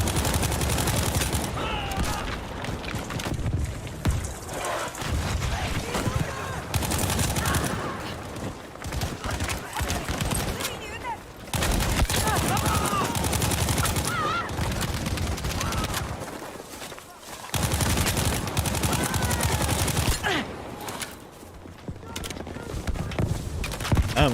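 Gunshots in a Battlefield 5 match, frequent and fairly loud, bursts of fire repeating through a busy, cluttered battle mix with occasional brief lulls, while a voice talks intermittently over it.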